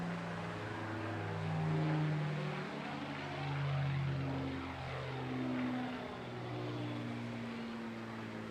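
A Spitfire MK356 in desert camouflage flies at the Bournemouth Air Festival, its piston engine droning steadily and distantly with a gentle rise and fall as it passes overhead.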